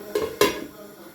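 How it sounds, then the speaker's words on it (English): Two quick metallic scrapes of a utensil against a cooking pot while quail is stirred, close and sharp, with a faint sizzle trailing after. "Stir for a little bit and wait for 5 minutes"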